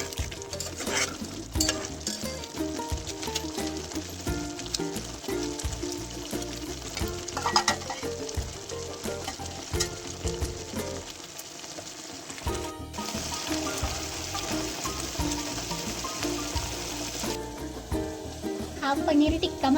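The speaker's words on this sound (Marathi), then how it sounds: "तेल सुटेपर्यंत कांद्याची आणि टोमॅटोची प्युरी भाजून घ्यायची." Onion and tomato puree for paneer tikka masala fries in oil, a steady bright sizzle with frequent scraping stir strokes running throughout at close range, with faint background music.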